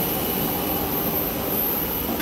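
An easyJet passenger jet passes overhead as a steady, broad roar of jet noise that stays loud and even throughout, with no voices.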